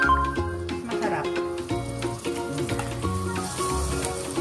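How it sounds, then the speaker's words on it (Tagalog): Eggplant slices frying in a pan for adobong talong, a steady loud sizzle and crackle that carries throughout, with utensil clinks and a musical backing underneath. "Gusto ko piniprito muna siya para ano."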